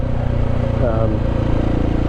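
A motorcycle rides along steadily, its engine drone loud and continuous throughout, close to the mic with a brief rise in pitch midway.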